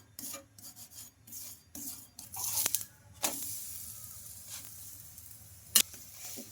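Sago roti cooking on a hot oiled pan as it is flipped and pressed, giving bursts of scraping, rasping sizzle with brief pauses between them and a sharp clatter near the end.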